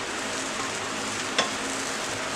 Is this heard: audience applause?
no